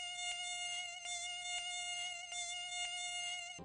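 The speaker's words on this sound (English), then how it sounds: "We are also able to detect the sound of a mosquito from a distance" A mosquito buzzes with a steady, thin, high-pitched whine that holds continuously at an even level throughout, with no other sounds around it.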